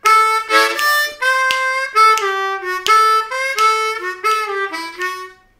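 Solo harmonica plays a full lick, a string of bright, reedy notes and short bends in a bouncy boogie rhythm, close and loud with no talk.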